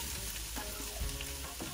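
Chicken with broccoli and shredded carrots sizzling and being stir-fried in a hot pan with oyster sauce and sugar, a close, continuous hiss with soft stirring scrapes.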